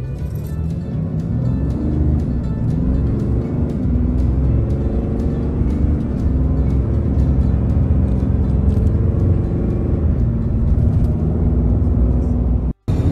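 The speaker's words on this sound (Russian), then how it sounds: "Разгон рема." A Dodge Ram 3500 HD pickup truck accelerates, a steady loud engine rumble and drivetrain whir heard from inside the cab that builds over several seconds without talk, ending with a brief click.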